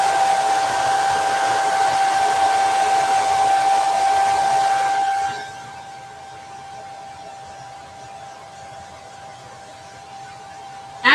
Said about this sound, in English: I'm going to grab my hair dryer and I'm going to give him a good dry.